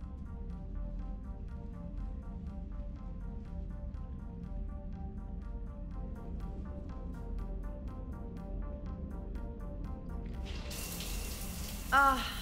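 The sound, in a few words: shower running in Mass Effect Legendary Edition video game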